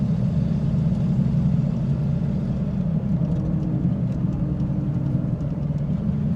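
A Ford F-150 pickup idling with a steady, even low rumble, close and unbroken, with no talking over it.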